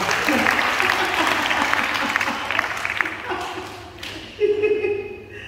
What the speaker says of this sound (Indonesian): Tepuk tangan dulu buat Bapak.